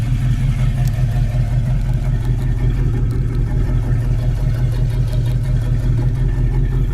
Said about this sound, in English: and the exhaust sounds good.